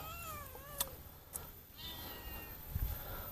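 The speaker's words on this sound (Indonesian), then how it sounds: "Kamu kucing beneran apa kucing AI?" A cat meows several times in quiet surroundings, its rising and falling cries separated by brief pauses, faint and close against a soft background hiss.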